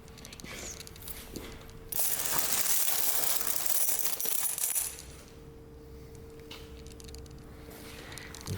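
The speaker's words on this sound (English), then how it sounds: "GE service coins." GE service coins at an auction preview are handled, giving a few seconds of close metallic jingling and clinking in the middle, set against quiet background noise.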